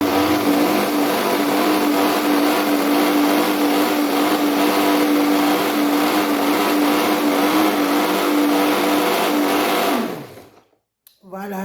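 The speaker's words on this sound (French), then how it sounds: "j'ai fini d'écraser, de mixer, pardon, le riz avec la peau de banane" A blender mixes rice with banana peel, a loud steady motor whir running continuously for about ten seconds before winding down and stopping.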